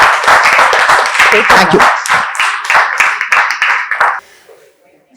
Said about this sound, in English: please put your hands together for a warm round of applause